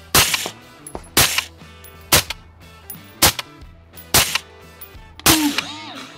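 An AR-15 rifle fitted with a JP silent capture spring and built for suppressor use fires about six sharp, loud shots at a steady pace of roughly one per second, each shot followed by a brief ringing tail.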